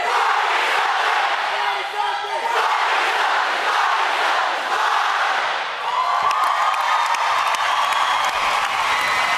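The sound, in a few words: graduating class of 2017 doing a class cheer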